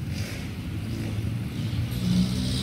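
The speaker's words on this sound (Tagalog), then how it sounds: "Maingay pa rin natin mga jeepney. Talaga bumibirit ng takbo eh." Jeepneys rev and speed past on a sunny street, a steady mid-range engine roar that swells louder toward the end as a vehicle draws near, with no voices.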